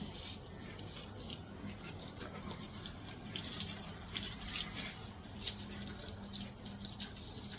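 Water is poured on bougainvillea plants in a garden at midday, a faint, soft trickle and splash heard close by with no voices.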